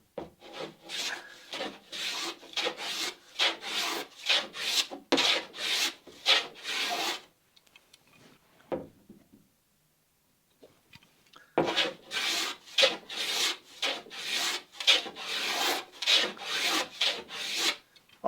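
A hand plane back-bevels the edge of a wooden lapstrake plank: rapid repeated rasping strokes in steady rhythm, then a pause with faint handling noise, then more strokes, close and clear.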